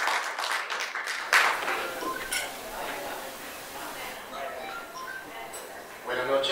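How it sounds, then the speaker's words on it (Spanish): An event audience applauds a plastic surgeon and his company, a broad wash of clapping that runs for several seconds with voices talking over it. "Un fuerte aplauso para él y para su empresa Peculio Plastic Surgery"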